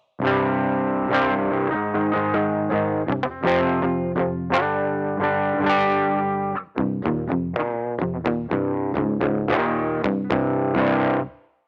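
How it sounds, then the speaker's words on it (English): Distorted electric guitar chords and single notes ring out loud through an amp, with a short pause midway before the playing resumes. "And then we decide to turn on the amp head."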